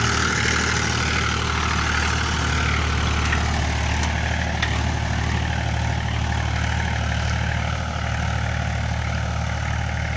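A Mahindra 265 tractor engine drones at a constant idle throughout, a loud low rumble with no change in pace and no voices.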